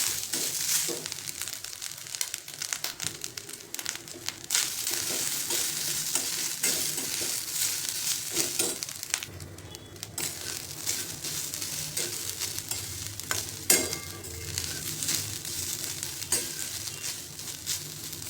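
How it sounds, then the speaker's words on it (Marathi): Grated coconut and poppy seeds stirred in a hot pan for a sweet coconut filling, with constant close scraping and crackling sizzle over the whole stretch, no talking. "नारळ घालायचं किसून घेतलेलं, खसखस सांगायची राहिली. मिनिटभर हलवून घ्यायचे."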